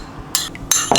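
Rice being mixed with vinegar and sesame oil in a bowl, three quick metallic clinks of a utensil against the dish, close and crisp with quiet pauses between.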